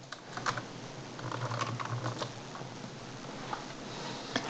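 Steady keyboard typing as text is entered in Microsoft Word, a continuous patter of close, light key clicks with a few louder taps throughout.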